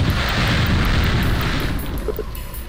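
Homing missiles bursting in a deathmatch video game, a dense continuous roar of overlapping blasts with low rumble that stays loud throughout and eases slightly toward the end.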